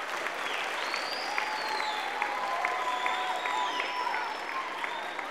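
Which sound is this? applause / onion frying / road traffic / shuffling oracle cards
applause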